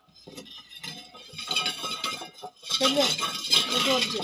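Plates and dishes clinking and scraping in a home kitchen where jackfruit is being served, with irregular close clatters under people talking.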